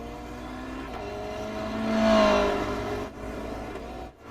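Race car in iRacing at Tsukuba, engine note rising as it approaches, peaking and then fading as it passes by, a single smooth pass under steady background engine hum.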